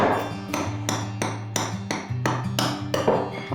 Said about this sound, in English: this we're going to chop up into the flour, as small as we can